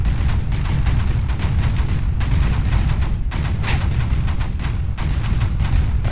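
Mortars fire in Creeper World 4 in a steady, dense barrage of loud booming shots. The blasts repeat rapidly and overlap for the whole stretch.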